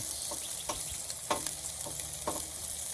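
Eggs fry in a hot pan with a steady, close crackling sizzle, sharp pops and spits breaking through the continuous hiss, with no voices.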